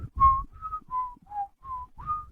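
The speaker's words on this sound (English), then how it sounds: "Another sailor starts whistling" Someone whistles a short, bouncy tune of six clear notes close by, with soft footsteps or shuffling beneath and no talking.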